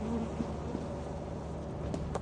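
A steady, low bee buzzing in the video game Lethal Company drones throughout, a continuous hum like bees hovering nearby, with no speech.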